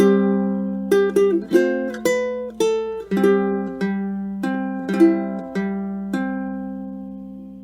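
Ukulele played fingerstyle, the first bar of Whispering Hope picked slowly, clear plucked notes ringing one after another in an even rhythm, close and alone without talking.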